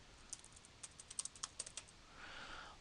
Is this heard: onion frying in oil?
no